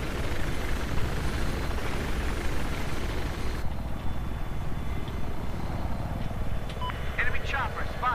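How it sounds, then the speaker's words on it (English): An enemy helicopter in Battlefield 4 churns with a continuous rotor thrum under game noise, a spoken callout and faint electronic beeps, the drone steady throughout and partly dimming midway. "Enemy chopper found, marked up."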